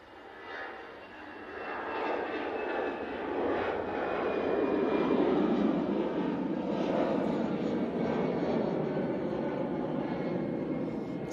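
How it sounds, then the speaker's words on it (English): EasyJet airliner departing for Amsterdam from Manchester Airport, a loud, steady broadband jet roar that swells and holds for about eleven seconds, heard from a distance without talk. "And next out, we have this Easyjet"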